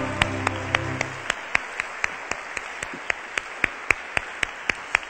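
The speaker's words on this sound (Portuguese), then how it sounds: "dê um aplauso ao Senhor." Steady rhythmic clapping from a church congregation during a worship service, sharp evenly spaced claps that stay moderately loud throughout, with a low sustained tone fading out in the opening second.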